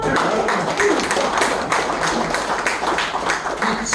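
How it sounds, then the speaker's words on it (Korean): Applause from an audience at a commemorative ceremony for the 100th anniversary of the Korean Communist Party, dense steady clapping filling the whole stretch at even loudness with no voice on top. "박수 한번 쳐주세요."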